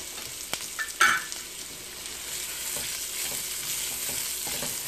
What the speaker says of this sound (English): Next, we're going to add our onions. And our baking soda, which is there to just help the onions brown faster.